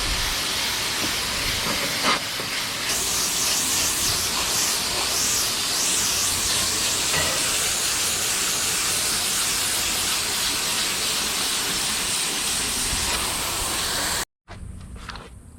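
Water spray rinses a home air conditioner unit from the inside out, a steady loud hiss that runs continuously for about fourteen seconds before cutting off abruptly.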